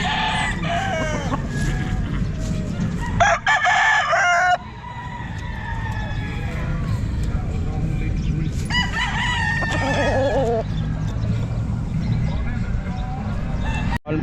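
Roosters crow and hens cluck at an outdoor pet market where fighting cocks are sold, the calls loud and repeated under a vendor's nearly constant talk and crowd noise.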